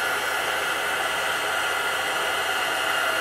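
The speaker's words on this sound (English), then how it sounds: "The heat tool gets very hot." A hot-air heat tool blows with a steady, loud rushing hiss, like a hair dryer, as it melts embossing powder on a paper flower for a craft bag. The sound holds constant throughout with no talking.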